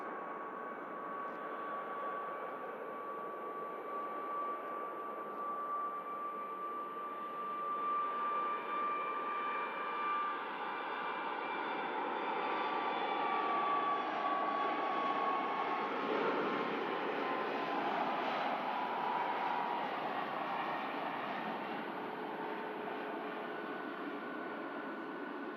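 A jet aircraft taxiing at Manchester Airport, its engines giving a steady whine and rumble that swells gradually, peaks midway and then eases, heard from a distance with no voices.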